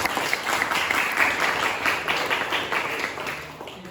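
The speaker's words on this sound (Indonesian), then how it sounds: "Tepuk tangan untuk teman-teman semua" Classroom audience applauding classmates after a screening of their diversity campaign videos, steady dense clapping throughout at moderate level, fading slightly near the end with no talk.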